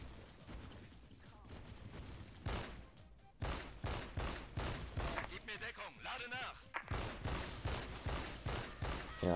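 Rapid gunfire from a video game shooter, dense bursts of shots and sharp cracks, some very loud and close, mixed with game effects and a voice talking over them.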